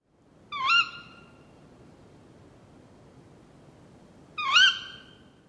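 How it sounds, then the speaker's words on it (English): An owl calls twice, each a short, harsh cry about four seconds apart, standing out over a faint background hiss. "That's an owl."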